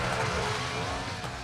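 Snowmobiles rev their engines in a brief, fairly distant burst of steady engine roar as riders race away from an avalanche, with no voices.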